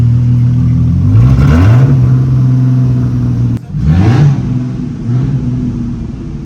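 A gigantic limousine's engine hums loud and close, revving up twice with rising pitch sweeps, then dropping off briefly before settling back into a steady drone.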